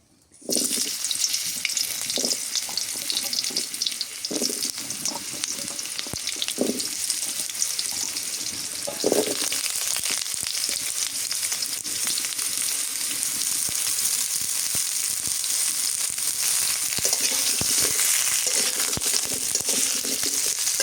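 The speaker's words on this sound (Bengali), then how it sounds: "পেঁপেগুলো ভাজা নেই তেলে।" Cut papaya pieces fry in hot oil for a country chicken curry, giving a loud, continuous broadband sizzle with occasional low bubbling bursts and stirring knocks throughout.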